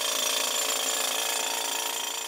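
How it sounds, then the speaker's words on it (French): A rock drill bores holes about 40 cm deep into rock in an Afghan gem mine, a loud, continuous rapid hammering roar that fills the whole stretch. "On va percer à 40 cm de profondeur."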